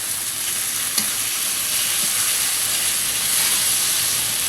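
Crushed hilsa fish heads cook down with taro leaves in a hot pan, giving a loud, steady, unbroken sizzling hiss with one faint utensil tap early on and no talking.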